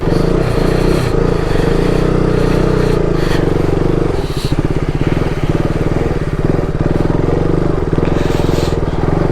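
A motorcycle rides on a snowy road with patches of black ice, its engine droning loud and steady close by with rough, rattling pulses as it works along the slippery surface.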